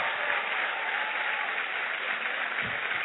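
Steady, dense applause from a church congregation fills the whole stretch, loud and even without pause.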